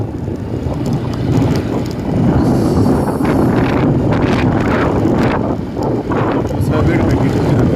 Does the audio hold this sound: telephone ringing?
no